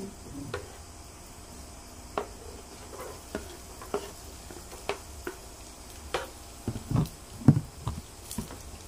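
Garlic sizzles softly in melted butter in a pan while being stirred for garlic-butter shrimp, with a quiet steady crackle broken by intermittent scrapes and clinks of the spoon.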